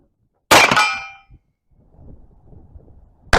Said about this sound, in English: So I'm going to shoot this 1860 Army at Big Yellow from about 40 yards